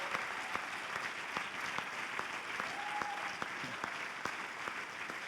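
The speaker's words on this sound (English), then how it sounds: "A huge applause for the entire group of the finalists" Sustained audience applause at the end of a brain-computer interface race event, steady clapping from a crowd with sharper individual claps standing out, moderately distant and without speech.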